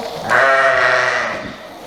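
A sheep bleats once, loud and close, in a long wavering call inside a livestock barn.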